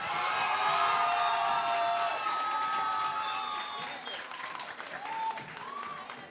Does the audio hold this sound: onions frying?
no